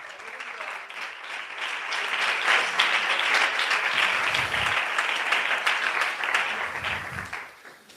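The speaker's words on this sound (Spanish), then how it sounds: "Dar un aplauso al Señor." A church congregation applauding, a full round of clapping that builds, holds steady and tapers off, with faint voices underneath.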